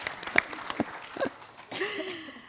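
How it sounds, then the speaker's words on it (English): Audience applause at a women-in-the-workforce event, sparse individual claps at first that swell into a fuller, denser round of clapping from the crowd, heard fairly close. "I want a big round of applause for all the people who organized this initiative."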